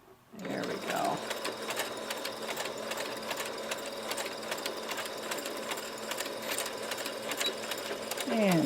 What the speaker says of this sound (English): back stitch to lock it in